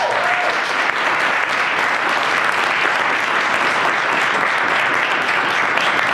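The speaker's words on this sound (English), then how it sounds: "Let's do one round of applause for Alexander" An audience applauds a producer after his talk on audio drama, a dense, continuous clapping that stays loud and even from start to finish.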